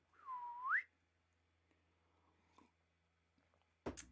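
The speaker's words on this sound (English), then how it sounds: "Let's whistle." A single short whistle dips and then rises sharply in pitch, followed by near silence with a few faint clicks and a soft thump.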